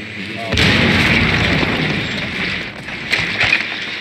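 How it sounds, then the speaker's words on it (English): Grenade explosion in the Rainbow Six Siege video game: a loud booming blast that kicks in suddenly and rumbles on, with later smaller pops and bursts under players' voices. "I got a nade, I'm cooking it."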